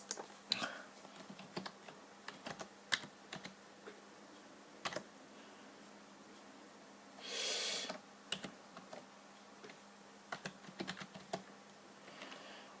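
Irregular keystrokes clatter on a glitchy computer keyboard, quick clicks in bursts with pauses between, close and fairly quiet, with one brief louder rustle midway.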